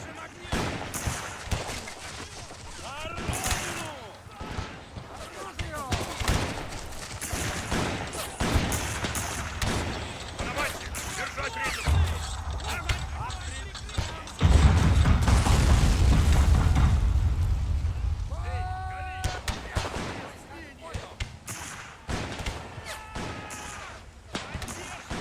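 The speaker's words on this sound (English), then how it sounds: "heavy artillery fire" Heavy artillery fire in a Crimean War battle at Sevastopol in a video game: repeated booming blasts and bursts of gunfire, dense and loud throughout, with a sustained rumbling barrage swelling midway and some talk over it.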